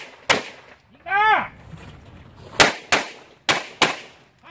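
Sharp handgun shots during firearm training with a car used as concealment, five crisp reports spaced unevenly across a few seconds, nearby and fairly loud, with a brief shouted voice between the first and second shot.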